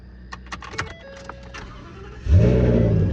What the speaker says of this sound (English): I'm gonna go start this motor. And again, this is a brand new V10 gas engine installed by Ford.